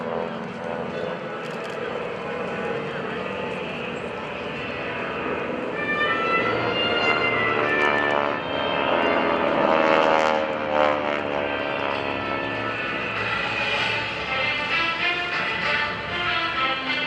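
Propeller aircraft of the GEICO Skytypers team fly past at an airshow. The droning engine tone swells to a peak midway and then eases off, heard at a moderate distance with no talk.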